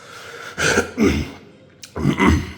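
A few throaty bursts of painful coughing or throat clearing, close and moderately loud, with a short pause between them.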